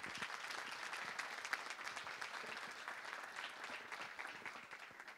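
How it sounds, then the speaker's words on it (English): Steady, moderately distant applause fills the room at an MLK awards luncheon, with continuous crowd clapping for award recipients holding an even level for over five seconds. "let's give all of our recipients a huge hand of applause"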